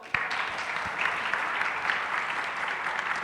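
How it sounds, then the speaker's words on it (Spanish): Listeners at a social innovation panel give a warm welcome to arriving guests with continuous, moderately distant applause from a seated audience, even and unbroken throughout. "recibámoslos con un fuerte aplauso"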